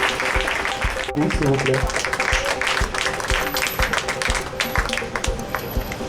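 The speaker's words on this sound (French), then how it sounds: "On va applaudir, s'il vous plaît" Audience applause at a Mother's Day gathering of RPM women, a steady dense patter throughout with voices talking over it and background music.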